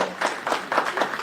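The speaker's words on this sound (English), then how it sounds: "A big round of applause for David." Audience at a voice acting panel at the Contropolis New Jersey convention breaks into applause, a dense wash of clapping that pulses in several quick surges over a short stretch.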